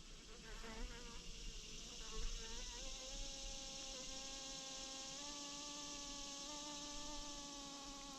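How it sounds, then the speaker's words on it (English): A bee buzzes steadily around a person outdoors, its wingbeat hum wavering in pitch as it circles close by, continuous and fairly loud against a faint background. "If you can hear the buzz in the background, there's a bee that's flying around me."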